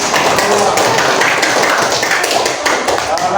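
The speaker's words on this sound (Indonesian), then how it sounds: "Jadi kita tepuk tangan dulu." A classroom of elementary students in an Islamic religious education lesson clap their hands together, a loud, dense patter of many small claps that runs steadily throughout with no break.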